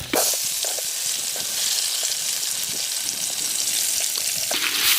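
Onions sizzle in a pan for Chettinad crab rasam, a moderate continuous hiss with light stirring knocks and crackles, louder at the start when they hit the oil.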